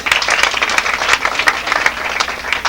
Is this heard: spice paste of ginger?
no